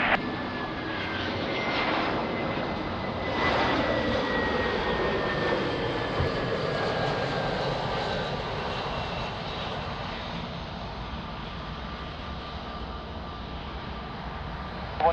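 A jet airliner on approach to runway 02 at Lisbon Airport roars steadily overhead, swelling and then slowly fading as it passes, with a broad engine rumble and a faint descending whine and no talk.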